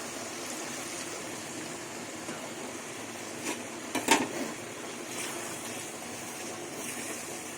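Water poured into a pan of papaya and chickpea-pea ghugni, a steady rushing splash that runs throughout with a few pan clinks midway, close and moderately loud with no talk.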